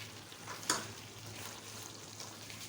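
Chicken masala with turmeric and coriander frying in a pan, a steady soft sizzle with one brief sharp clatter near the start, then continuous low crackle.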